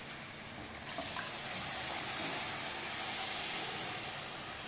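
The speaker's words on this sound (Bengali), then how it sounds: "মটন সিদ্ধ করা জলটা দিয়ে দিলাম।" Mutton-boiling water poured into a pot of mutton curry, a steady broadband hiss and wash of liquid running continuously for several seconds, close and fairly loud, with no talking.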